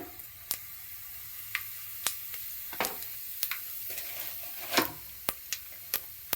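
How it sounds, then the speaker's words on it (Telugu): Mustard seeds and cumin sizzle in hot oil in a pan, a soft steady frying hiss broken by sharp pops and crackles scattered throughout, fairly quiet, with no speech. "ఆయిల్ హీట్ అయిన తర్వాత కొద్దిగా ఆవాలు"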